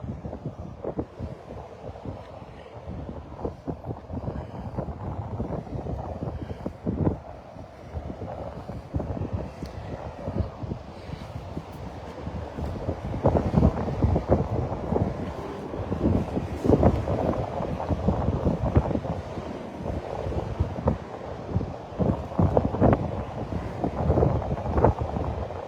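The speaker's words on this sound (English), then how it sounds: "It's quite windy here on Interstate 26, exit 5, right here in lovely Kingsport," Wind gusts across an Interstate 26 exit in Kingsport, Tennessee, buffeting the microphone in uneven rumbling bursts that strengthen in the second half, with the faint wash of traffic underneath.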